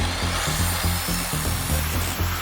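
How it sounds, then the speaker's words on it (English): A jackhammer pounding a LEGO minifigure, heard as a loud, continuous mechanical drone with a steady, rapid pulsing beat and no voices. "I destroyed Jeff with a jackhammer."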